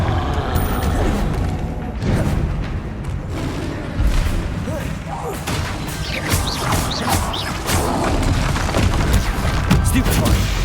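Blasting-curse explosions in the Hogwarts Legacy video game boom and crash in rapid succession amid dense combat noise, with a voice shouting spell names over the blasts.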